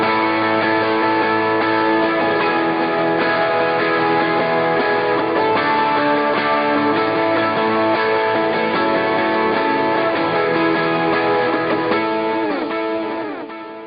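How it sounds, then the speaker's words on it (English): Two acoustic-style guitars play together, one strumming low open chords while the other rings out higher chord inversions up the neck, a full, even strummed texture for about fourteen seconds before fading slightly at the end. "with the higher strung parts that I'm playing, along with the open chords that Team 1 is playing down low, this is what it sounds like."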